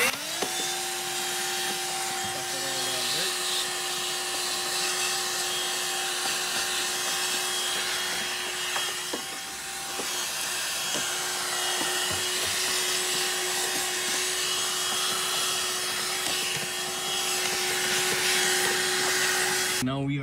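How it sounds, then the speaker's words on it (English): A small handheld vacuum cleaning a car's clutch pedal assembly, a steady close whine and roar running nonstop with brief dips and bumps as the nozzle moves, no talking over it. "Got my little vacuum here."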